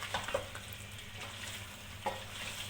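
Chicken tikka sizzles and fries in a hot karahi with a steady close hiss, while a few scraping stirs punctuate it and no one speaks.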